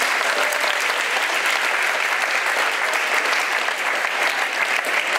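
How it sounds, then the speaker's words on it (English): Audience applause fills the room after an announcement at a live-streamed group event, a dense, steady clapping that holds at full strength for several seconds without talk over it. "So let's give them another round of applause."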